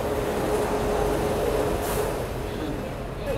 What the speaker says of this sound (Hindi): उधर मेरी फेवरेट गाड़ी तमिलनाडु एक्सप्रेस जस्ट निकली है